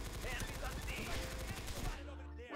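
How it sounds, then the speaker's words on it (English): Rapid gunfire rattles in a fast, steady burst in a Roblox shooter game, up close and loud, then cuts off near the end, leaving a lower hum. "I missed so many shots there"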